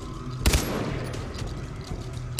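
Two loud single gunshots in Far Cry 3, spaced about two seconds apart, each a sharp close crack over steady outdoor ambience.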